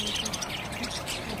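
Budgerigars chirping and tweeting in a busy animal market, a steady bird chatter mixed with crowd noise and nearby talk.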